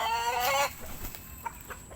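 A Spangle gamecock clucks and crows briefly close by, with a strong harmonic call at the start followed by fainter clucks.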